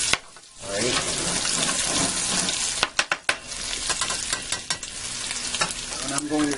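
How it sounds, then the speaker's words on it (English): A spatula scrapes and stirs across the bottom of a frying pan after hamburger patties have cooked, loud and close, with a steady sizzle underneath and a burst of sharp scraping clicks midway. "I'm going to take my spatula here and I'm going to scrape the bottom of the pan here"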